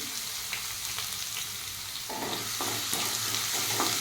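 Tempering seeds, dried red chillies and crushed garlic fry in hot oil, a steady close sizzle with crackling pops and scraping stirs, no voices.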